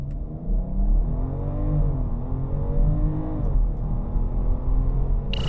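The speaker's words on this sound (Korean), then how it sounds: "BMW X5 40i 과연 발진 가속 성능 얼마나 나은지 볼까요?" A 2024 BMW X5 xDrive40i facelift makes a launch acceleration run, its engine revving loud and close with rising pitch sweeps through successive gear changes.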